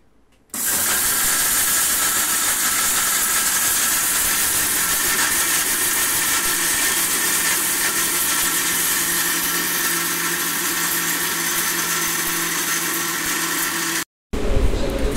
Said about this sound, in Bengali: এখন ব্লেন্ড করে ফেলবো।